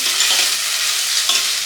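Onions sautéing in a hot pan while being stirred for biryani, a steady close hiss of sizzling with scraping stir strokes and no voices.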